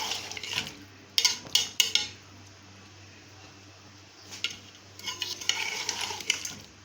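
Chopped ingredients being stirred into a white chicken karahi in a pot: a few sharp scraping clatters of a spoon against metal, a quiet pause, then a longer stretch of scraping and light sizzle.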